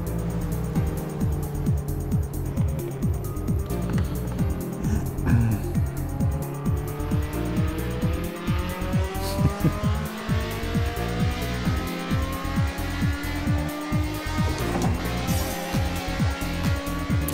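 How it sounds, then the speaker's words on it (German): A race car in the racing game Project CARS roars with a continuous, loud engine note that rises and falls through gear changes, with tire noise underneath and no talking. "Kann ja nochmal rausschalten, damit man hier noch was aufs Ohr bekommt von dem wunderhübschen Sound des Wagens."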